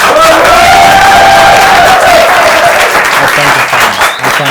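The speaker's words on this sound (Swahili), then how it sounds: "Wapi makofi ya Miss Trudy?" Loud audience applause with cheering and some whoops from a crowd, continuous and dense for several seconds before tapering slightly near the end.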